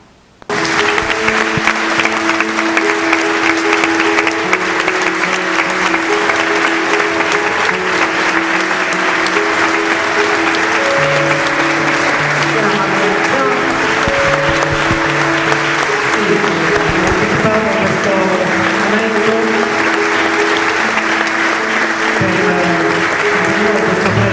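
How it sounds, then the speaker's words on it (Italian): An audience claps loudly and steadily for Sofia Tedesco, a young regional Italian champion in couple dance, at a ceremony, with the ovation sustained throughout and music tones running underneath. "Qui vi appellerei con un grande applauso."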